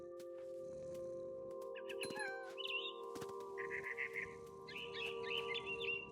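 Several birds chirp and trill in short bursts across a tree setting in the video game What Remains of Edith Finch, high twittering phrases over a steady low ambient hum.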